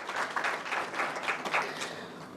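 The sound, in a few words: audience applause at conference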